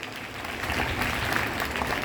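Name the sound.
applause at school Republic Day celebration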